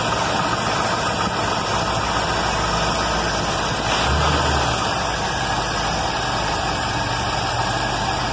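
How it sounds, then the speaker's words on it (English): A car engine idles steadily while warming up after repair, a close, continuous low rumble with a slightly rough, uneven character and a brief swell near the middle; no voices. "The car's warming up. I actually have it down to an idle that you can read on the gauge finally."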